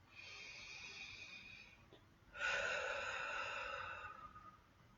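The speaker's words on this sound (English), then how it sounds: "Noticing my breath and taking a deeper, fuller breath now." A deep breath drawn in and then let out slowly, close and soft: a quieter inhale for about two seconds, then a fuller, stronger exhale that fades away.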